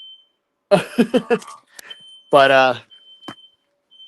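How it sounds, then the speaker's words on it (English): An apartment smoke alarm, set off by dust from cleaning, gives a thin steady high beep that runs under a man's speech and sounds again in short chirps between his words. "My smoke alarm's going off because I've been cleaning my apartment all day"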